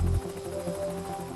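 A police helicopter heard from overhead during an aerial search, its rotor and engine making a steady, continuous drone that holds without a break, loud and close throughout the short stretch.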